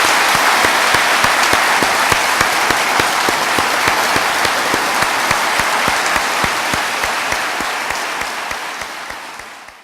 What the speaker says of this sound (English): So I'd ask you to join me in a round of applause for these unsung heroes